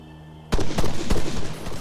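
Burst of gunfire erupts abruptly after a quiet moment during a night firefight in the video game Arma 3, with loud, close, rapid irregular shots cracking one after another.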